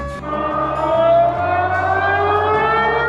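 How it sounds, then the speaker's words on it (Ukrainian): Air raid siren broadcast over commercial radio in Russia, a loud, sustained wailing tone that slowly rises in pitch, heard alone with no talk. "тут в некоторых городах России по коммерческим радиостанциям начали звучать сигналы воздушной тревоги"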